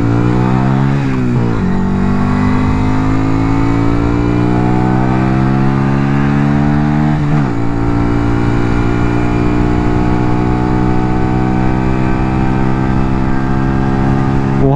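A Yamaha Virago XV125 chopper with a small V2 engine is ridden, its loud, close engine note climbing through the gears with two sharp shift dips, then holding a steady throbbing drone.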